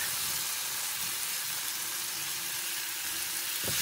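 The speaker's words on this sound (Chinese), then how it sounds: "翻炒两三分钟" Diced dried tofu stir-fried with tomato and scallion gives a constant bright sizzle and hiss, close and alone, with a brief knock of a utensil just before it ends.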